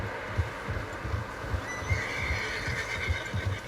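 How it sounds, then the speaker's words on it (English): Several horses in Red Dead Redemption 2, a long whinny rising over a steady beat of hoofbeats, moderately close and without talk. "Horses, quite a few of them."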